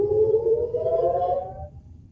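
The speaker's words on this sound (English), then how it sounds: "sirens in the northern port city of Haifa" Air raid siren wailing in the port city of Haifa, Israel, during a rocket attack: a single sustained tone that slowly rises in pitch, then fades out after about a second and a half.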